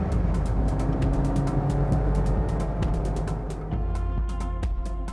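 Maruti Dzire engine droning steadily at close range with a rhythmic ticking, dipping briefly near the end before the drone picks back up, no talk.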